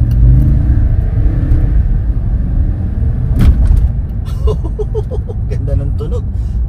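2015 Toyota Tundra pickup truck engine rumbles low and steady from inside the cab as it accelerates, a continuous deep drone with a person speaking over it toward the end.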